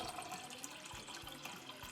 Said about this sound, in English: Now take your pot, add 4 cups of water